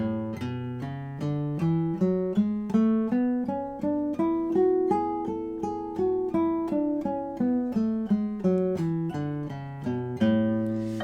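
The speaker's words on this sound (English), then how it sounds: "play with a really legato sound, a very smoothly connected sound" A scale played smoothly and legato on a pitched instrument, with about two dozen connected notes climbing steadily and then descending, each blending into the next.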